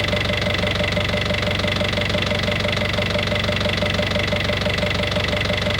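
An engine with a broken turbocharger runs in a steady, loud, close drone with a knocking, vibrating texture as it spins up, unbroken for the whole stretch and with no voices.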